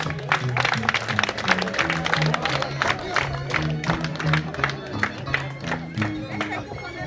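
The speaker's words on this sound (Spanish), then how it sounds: "¡Palmas!" A crowd at a birthday celebration in Lima claps along with festive live music, the applause and cheering mixing with a rhythmic band and voices in a lively, steady wash.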